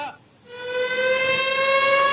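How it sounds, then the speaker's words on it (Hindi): A news channel's breaking-news siren starts after a short pause and holds as a loud, steady tone with strong harmonics, running alone without any talk over it. "सायरन बज गया है, ब्रेकिंग आ रही है"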